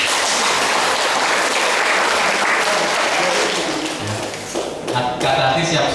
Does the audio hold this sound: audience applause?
yes